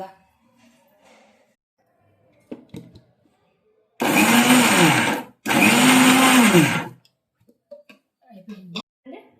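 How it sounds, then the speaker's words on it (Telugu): A mixer grinder whirs loudly in two bursts of a few seconds each, with a short pause between, and brief talk before and after. "మిక్సీ వేసుకుందామండి ఇప్పుడు"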